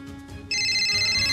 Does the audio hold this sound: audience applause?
no